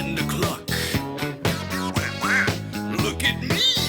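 Within a disco song, a duck-like quacking voice effect repeats in short rhythmic bursts over the loud backing music.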